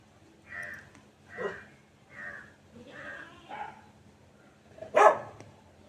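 Crows being fed rice outdoors give a few separate caws spaced across several seconds, with one louder call near the end, over a quiet background.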